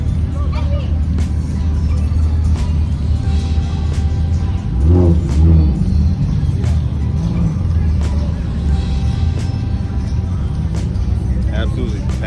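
An Audi sports car exhaust revs at a crowded car show at Porsche, a deep rumble that rises in a short burst midway, heard close amid surrounding crowd noise and talk.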